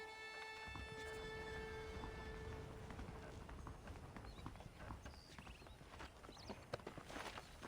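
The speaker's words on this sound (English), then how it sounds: "The horses are saddled up over here." Steady clip-clop of horse hooves at a walking pace in the video game Red Dead Redemption, continuous throughout, with a sustained musical tone at the start and faint background noise.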